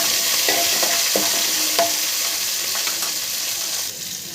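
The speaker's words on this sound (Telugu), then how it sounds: "అవి పొయ్యి మీద వేగుతూ ఉంటాయండి." Lentils, mustard seeds, curry leaves, green chilies and onions frying in hot oil on a stove, a loud, continuous sizzle broken by a few sharp spoon scrapes and pops throughout.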